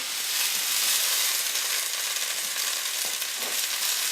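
Corn hits a hot pan in a stir fry with edamame, giving a loud, steady sizzle and hiss with faint stirring scrapes and no talk.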